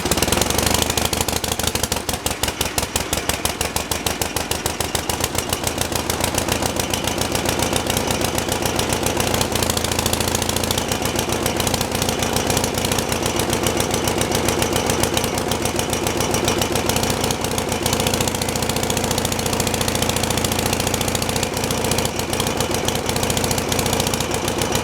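The engine of a big wheel machine starting and running with the choke pulled, a loud, steady, knocking diesel-like rumble heard close up for the whole stretch.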